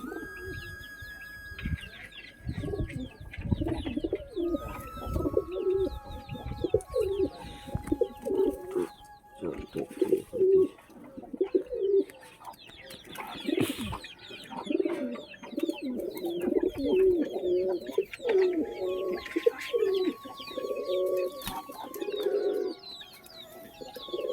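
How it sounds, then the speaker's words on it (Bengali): Domestic pigeons coo close by in a loft, overlapping throaty coos in an uneven, almost continuous rhythm, with scattered chirps from other birds and no talk. "আর এই যে আমার যা কবুতর আছে তোমরা এখানে দেখে নাও।"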